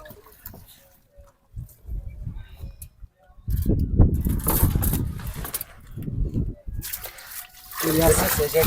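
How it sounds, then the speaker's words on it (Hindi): Grapes being dipped and swished in water tanks for raisin making, giving splashing, trickling and sloshing noises close by, mixed with people talking. "इस पानी में डुबो रहे हैं। पहले तो साफ पानी में"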